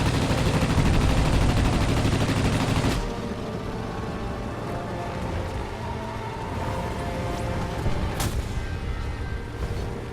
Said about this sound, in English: Strafing.